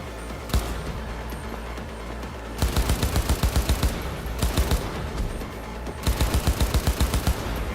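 Bursts of automatic gunfire in Cyberpunk 2077, loud rapid volleys separated by brief lulls, with single shots scattered between and no talking.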